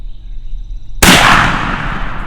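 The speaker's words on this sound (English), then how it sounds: "Shoot him." A single loud shotgun blast fired at a wild eastern turkey during a spring hunt, a sharp close crack after a second of near silence, followed by a long rolling echo that fades slowly.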